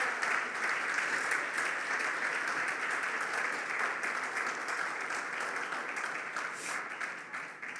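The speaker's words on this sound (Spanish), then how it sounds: "Dale fuerte el aplauso." A church congregation applauds during a sermon, many hands clapping in a sustained, even roar that eases off slightly toward the end.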